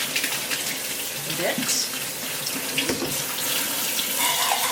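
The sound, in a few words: water tap running, rinsing canned beans with cold water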